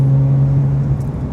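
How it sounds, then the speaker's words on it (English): Porsche GT3 fitted with an aftermarket valved exhaust, holding a steady, loud low drone with a slight rise toward the end, close and alone without talk. "It's got an aftermarket exhaust on it"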